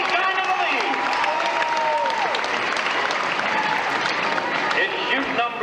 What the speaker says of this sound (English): while you're clapping right now